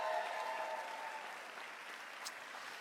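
A crowd applauds at the naming ceremony for the Carnival Celebration cruise ship in Miami, producing a soft, distant wash of clapping that stays even and slowly tapers.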